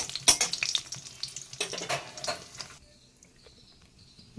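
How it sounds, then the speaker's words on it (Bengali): Lentil dumplings (bori) fry in hot oil while being gently stirred, making a busy sizzle with scraping clatter for about three seconds before it fades to near quiet. "বড়িগুলোকে হালকা নাড়াচাড়া করে ভেজে নিচ্ছি"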